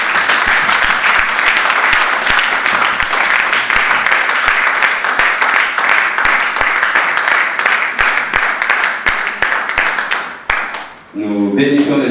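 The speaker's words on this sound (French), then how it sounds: "Est-ce qu'on peut acclamer le Seigneur?" Church congregation applauding loudly and continuously at a seminar service, a dense, close wash of clapping with rhythmic accents that stops abruptly near the end, followed by a brief voice.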